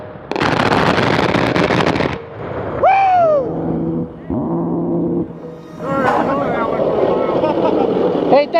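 An A-10 Warthog fires its gun in a loud, near, buzzing burst, then the sound rolls back as a long echo across the sky, followed by another rumbling stretch; a voice speaks over part of it.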